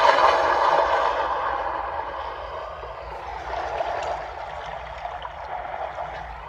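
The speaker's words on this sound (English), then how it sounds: "So that's water." Recorded flowing-water effect playing from a handheld baby sensory toy, a steady hissing rush of stream-like water that fades a little and then lingers, with no talk over it.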